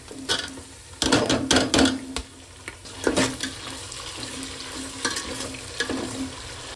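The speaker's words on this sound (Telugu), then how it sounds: "టమాటాలు వేసి త్వరగా వేయించుకుందాం" Onions and tomatoes sizzle in a pan for a capsicum curry, the steady frying hiss broken by bursts of scraping and stirring at close range.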